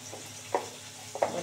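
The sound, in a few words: potatoes frying in a pan with salt and turmeric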